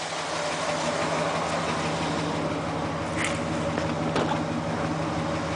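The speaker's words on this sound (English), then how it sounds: "Engine runs pretty good." A 1971 Buick Centurion's 455 V8 engine idles with a steady low rumble that stays even throughout, with a couple of faint clicks.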